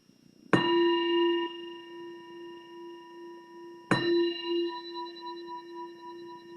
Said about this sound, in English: we'll let the bell transition us